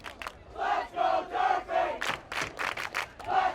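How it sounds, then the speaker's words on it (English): Excited spectators at a high school boys soccer game chant and cheer in rhythmic, rising bursts of many voices, a sustained crowd roar at moderate distance. "What a great crowd, I'll tell you. Gotta love when they're excited."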